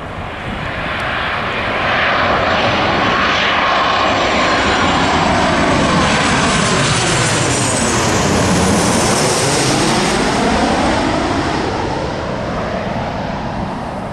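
A fixed-wing airplane passes overhead, its loud engine roar swelling into a sustained rushing drone with a falling pitch sweep as it goes by, then easing slightly, with no voices.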